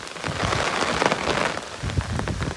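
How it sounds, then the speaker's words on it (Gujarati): Heavy rain pours down in a dense, loud, continuous roar of drops hitting surfaces nearby, with a brief dip in intensity partway through. "વરસાદ તો ફૂલ ચાલુ થઈ ગયો છે"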